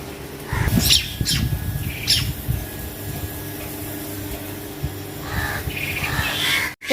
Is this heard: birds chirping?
yes